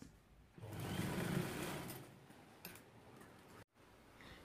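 Sewing machine stitching a length of rope onto a homemade kitchen apron, a steady close whirring run that starts after a brief pause, eases off midway and stops with a short break near the end.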